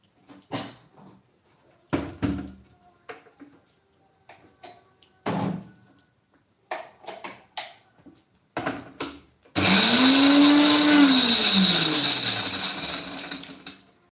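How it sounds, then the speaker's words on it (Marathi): A mixer grinder grinds green chilli and garlic in a home kitchen. A few light knocks and clatters come first, then the motor starts abruptly into a loud, steady whir that swells and dips in pitch for about four seconds. "मी मिक्सरच्या भांड्यामध्ये टाकून पटकन बारीक करते"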